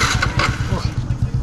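A motorbike engine runs close by with a low, pulsing throb, and a voice speaks over it.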